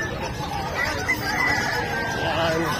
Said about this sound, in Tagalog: Tapos nandyan sa gilid yung mga manok.